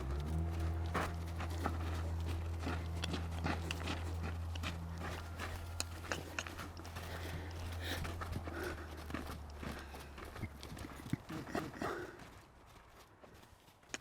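A horse trots under a rider, its hooves striking in a quick rhythmic clip-clop with a low droning hum in the background, the footfalls fairly close and steady throughout.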